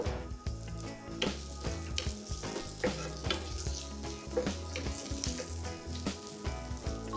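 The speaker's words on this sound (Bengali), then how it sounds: "কিউব করে কাটা আধা কাপ পেঁয়াজ আর আধা কাপ ক্যাপসিকাম দিয়ে একটু নেড়েচেড়ে নিব" Cubed onion and capsicum stir-frying with beef liver on a tawa, a continuous moderate sizzle with scraping stirs and clinks throughout, no voices.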